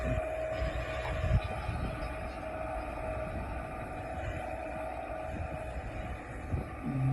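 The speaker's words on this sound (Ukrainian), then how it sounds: "приїхав трактор оранжевий" An orange tractor's engine drones steadily nearby, a low rumbling motor with a constant mechanical hum, rising briefly in a few bursts as it drives over dry ground.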